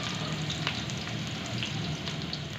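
Finely sliced onions fry in hot ghee with a steady, dense sizzle and crackle, close up and continuous. No one talks over it.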